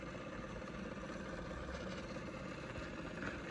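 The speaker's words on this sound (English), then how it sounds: "the tape's finished, so all right, let's rewind it" A cassette tape rewinding inside a Williamson Enviro AIE boombox gives a faint, steady mechanical whir that runs unbroken and even from start to finish.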